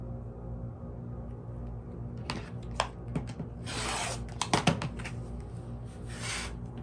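Quilt fabric being cut, a brief rasping, rubbing slice with a couple of sharp clicks over a low steady hum, close and quiet, with no talking.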